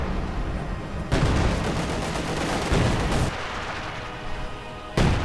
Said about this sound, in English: Bit of artillery going on here.